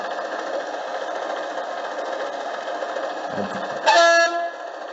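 The sound unit of a 1:45-scale DB V36 model locomotive hums with a steady engine drone, then a brief horn blast sounds near the end.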